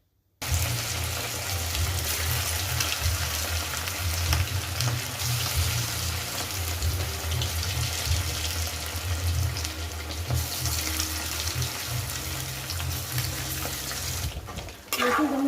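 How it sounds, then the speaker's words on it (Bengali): Chicken pieces deep frying one by one in smoking-hot oil in a kadai, making a loud, continuous bubbling sizzle close by from start to finish, with a brief clatter near the end. "একে একে করে সব চিকেনগুলোকে একবার ডিপ ফ্রাই করে ভেজে নেবো"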